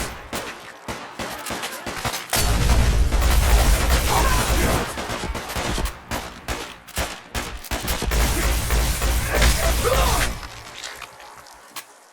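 Gunfire in the Fallout 4 America Rising 2 mod, a dense, loud fusillade of rapid overlapping shots and heavy booms that keeps up for most of the stretch before easing off.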